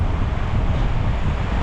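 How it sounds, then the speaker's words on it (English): Steady wind roars and buffets a microphone up close on a Macau street near the Broadway and Galaxy casinos, a low rumbling rush that never lets up, with no voices over it. "That's windy right there."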